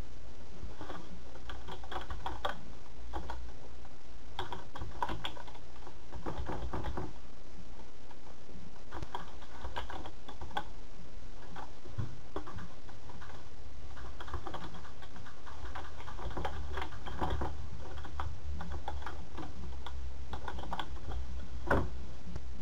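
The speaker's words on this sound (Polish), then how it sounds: "Wpisujemy tutaj E, adres e-mail" Someone types an email address on a computer keyboard, with close, continuous key clicks in uneven runs and brief pauses over more than twenty seconds, and no speech.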